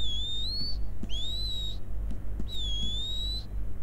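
Three rising whistled calls, used to summon a horse in Red Dead Redemption Online, each a clear, bright tone sliding upward over a low steady background hum, spaced about a second apart.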